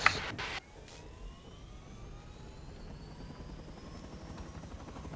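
A helicopter in the online game Rust whirs steadily with a rotor drone and a faintly rising engine pitch after a short, sharp clatter at the start.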